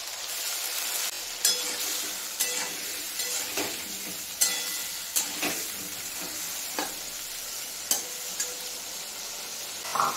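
Ginger and green chili fry with potatoes and onion in a pan, a steady close sizzle broken by regular sharp scrapes and knocks of a spatula stirring roughly every second.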